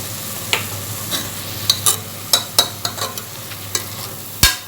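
Mutton kurma masala with coriander powder and salt is stirred in a frying pan: a soft sizzle beneath a string of sharp spoon-on-metal clicks and scrapes, close up, no talking.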